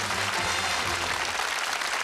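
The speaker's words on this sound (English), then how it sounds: "Warm round of applause." Studio audience applause on the 1981 Bullseye game show, a dense, steady wash of clapping filling the whole stretch with a faint low hum beneath and no voices.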